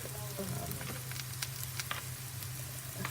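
Garlic fries in a pan, its sizzle half-cooked and just starting to brown, a moderate crackling hiss over a low steady hum with scattered sharp pops.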